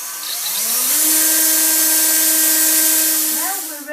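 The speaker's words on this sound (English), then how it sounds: "you have to drill a little hole in the corner so the cable can go in" A power drill boring a small hole in the corner of a homemade go-kart for a cable, motor whining up to a steady high pitch for several seconds, close and loud, then winding down.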